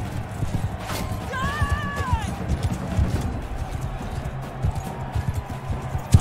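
Horse hooves clip-clop at a steady trot in the medieval combat game Mount and Blade Bannerlord, mixed with a brief whinny and background game noise under faint talk.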